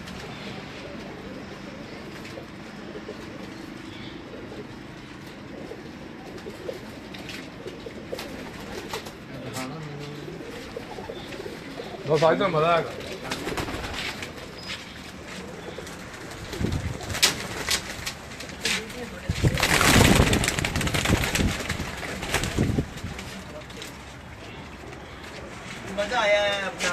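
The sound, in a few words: pigeons cooing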